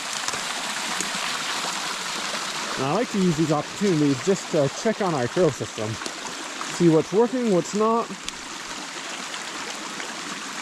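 Steady rain falls on a wooded trail with soft soil, a constant broadband hiss with trickling water running beneath a voice talking.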